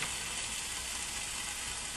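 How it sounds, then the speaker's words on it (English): A pork chop sears and browns in a hot pan on a stovetop, giving a steady, dense sizzle that stays loud and even throughout with no talking. "I like to kind of scar the pork chop a little bit first"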